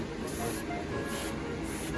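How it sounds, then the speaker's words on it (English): Spray bottle misting plants in a garden, three rhythmic pulses of fine hissing spray over a steady background rush. "Every day we'll just come in and we'll go spray, spray, spray, spray."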